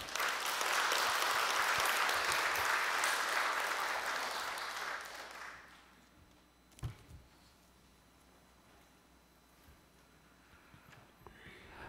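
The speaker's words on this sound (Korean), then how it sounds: "나오실 때 박수로 모시겠습니다." A church congregation claps to welcome a speaker to the front, loud applause that fades out after about five seconds, leaving a quiet room with a thump and small rustles.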